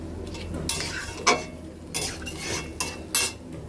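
Chicken curry with bay leaves being stirred in a pot, a low sizzle punctuated by four or five distinct scrapes and clinks of a metal spoon against the pot, close up and without speech.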